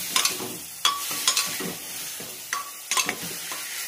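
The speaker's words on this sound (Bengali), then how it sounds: "এখন আমি দিয়ে দেবো মাংসের টুকরোগুলো। এইভাবে আমি 5 মিনিটের মতো কষিয়ে নেব।" Mutton pieces being stirred in a hot pan for a mutton soup, with sharp bursts of sizzling and scraping spatula strokes in irregular clusters, loud and close, separated by quieter gaps.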